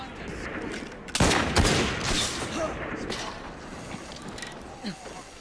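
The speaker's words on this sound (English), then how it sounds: "Cannons!" Cannon fire rings out in the Assassin's Creed Syndicate video game, a sudden burst of loud booms and rattling blasts fading into battle noise, with a voice talking over it.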